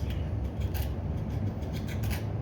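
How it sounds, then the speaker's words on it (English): Sealer being scraped off the copper windings of a Ryobi 480e riding mower deck motor, heard as a close, rapid series of short raspy scratches in an uneven rhythm. "Scrape all your sealer off the windings."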